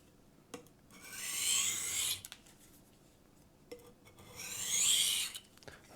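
A knife blade drawn by hand across a diamond sharpening stone in light strokes, giving two long raspy scraping passes, each about a second long, separated by soft clicks and quiet pauses, close and alone.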